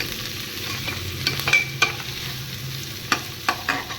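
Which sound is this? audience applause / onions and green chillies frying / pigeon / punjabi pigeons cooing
onions and green chillies frying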